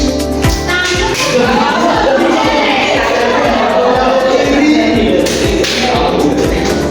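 Children clap in the 'tepuk nyamuk' hand-clapping game during a classroom lesson, sharp claps landing in a steady, repeated rhythm amid constant voices and room chatter.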